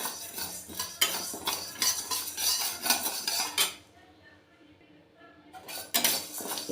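A metal spoon stirs urad dal and ragi roasting in a pan, making steady close scraping and clinking against the pan with a brief quieter pause before the stirring resumes.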